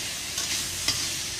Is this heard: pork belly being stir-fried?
yes